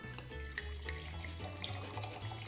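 A steady liquid pour runs continuously under a faint background hum, with soft splashy flickers, close and fairly quiet.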